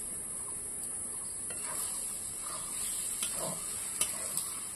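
Banana flower curry being stirred and sautéed in a pan, a steady close sizzle with scraping spoon strokes and a couple of sharp clinks near the end, no voices.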